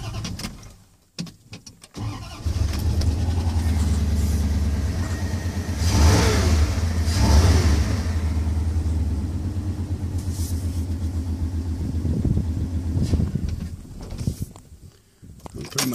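Tuned-up car engine idling then revving twice in rising, falling swells over a steady low rumble, close and fairly loud, with a few faint noises around it.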